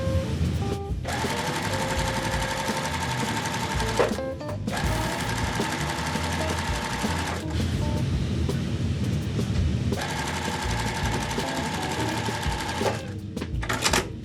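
A sewing machine joins layer-cake quilt pieces in three long, rapid stitching runs, each separated by a short pause, loud and close with faint handling noise.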